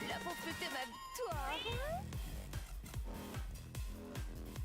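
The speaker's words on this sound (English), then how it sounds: "The kitty." A cat meows in a video game, a couple of rising and falling cries over game music with a steady thumping beat, while a voice talks over it.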